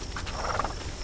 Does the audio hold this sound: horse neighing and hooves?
yes